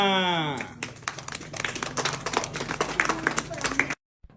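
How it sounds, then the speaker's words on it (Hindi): Applause from a crowd bursts in after a short spoken or sung tone and carries on densely for about three and a half seconds before cutting off abruptly. It is fairly loud and close. "तालियां"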